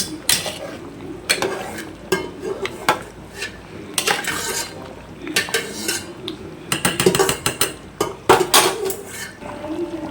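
A spoon stirring chicken pulimunchi curry with curry leaves in a pan over a high flame, making irregular bursts of clinking and scraping against the metal over a faint bubbling simmer.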